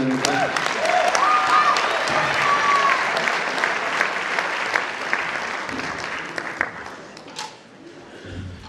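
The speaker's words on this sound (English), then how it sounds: "Another round of applause for Julie." Audience applause fills a school winter concert hall, a broad steady wash of many hands that gradually thins and fades out near the end, with a brief stray voice or tone in the middle.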